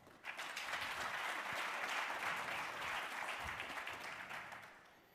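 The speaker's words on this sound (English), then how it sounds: "I would want us to give all the speakers a good round of applause." Conference audience applauding speakers at a future-of-work dialogue: a dense, even wash of many hands clapping that rises quickly, holds steady for several seconds, then tapers off, heard from within a fairly quiet hall.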